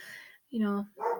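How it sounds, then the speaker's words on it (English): A dog barks a few times in short, sharp bursts with brief pauses between them, fairly close and clear. "excuse the barking downstairs"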